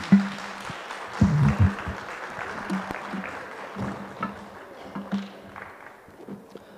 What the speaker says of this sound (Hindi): ज़ोरदार तालियां हो जाए सर के लिए वंस अगेन